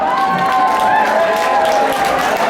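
A crowd at a chutney music event applauds in a steady wash of clapping, with sustained tones and some crowd noise running underneath.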